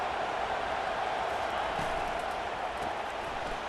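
A steady, loud roar from a football stadium crowd fills the air without a break, a dense wash of many voices from the stands at a college game.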